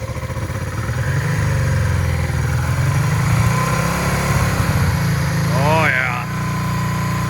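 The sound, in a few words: motorcycle engine running and revving on donor bike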